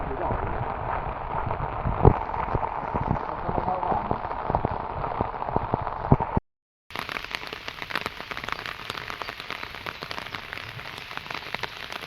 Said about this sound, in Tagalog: Pero lakas na ng ulan.